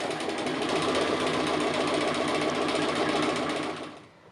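A sewing machine runs steadily and close by, doing decorative appliqué stitching on the roof of a fabric house, with a continuous buzzing hum that winds down at the end.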